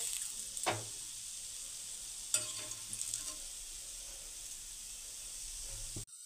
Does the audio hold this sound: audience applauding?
no